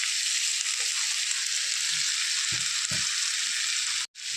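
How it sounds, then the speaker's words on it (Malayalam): Chopped bitter gourd in a hot pan over high flame with curry leaves for a pavakka roast, giving a steady, loud, close sizzle throughout, with a few soft stirring bumps and a brief drop-out near the end. "ഇതിലേക്ക് നമ്മൾ അരിഞ്ഞു വെച്ചിരിക്കുന്ന പാവയ്ക്കയും കൂടെ ചേർത്ത് കൊടുക്കാം."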